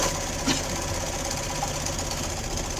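A sewing machine runs a long continuous forward and back stitch along a fabric spa headband, a steady dense mechanical whir with fast rapid needle chatter, close and unbroken.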